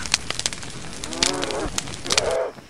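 Goat bleats from a video game, a few drawn-out cries close and clear, the last one longer, over a quiet background of light clicks.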